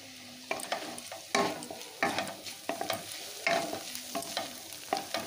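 Potato and onion stirred and fried in a pan, with a steady sizzle broken by repeated scraping strokes of a spoon every second or so, close and fairly loud, with no talking.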